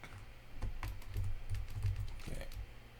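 Fingers type rapidly on a computer keyboard that is in poor, faulty condition, producing a close, quiet run of uneven clacking keystrokes with short pauses between bursts.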